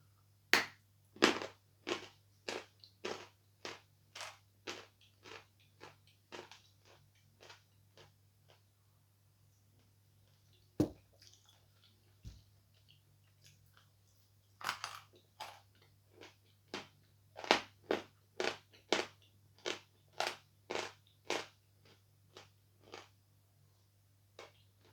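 Sawn Volokonovka chalk being bitten and chewed up close, a long series of sharp crisp crunches in rhythmic bursts with brief pauses between runs, over a low steady hum, no talking.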